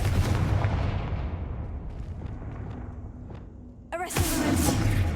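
A Confringo fire blast spell exploding in Hogwarts Legacy, heavy booming rumble at the start that decays, then a sharp crackling burst and renewed roar near the end.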